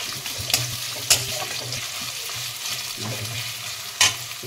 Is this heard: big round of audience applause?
no